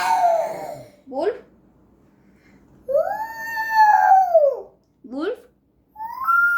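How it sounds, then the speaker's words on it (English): Wolf howls rise and fall in long tonal wails, with several separate calls across the stretch, fairly close and clear against a quiet background. "Wolf."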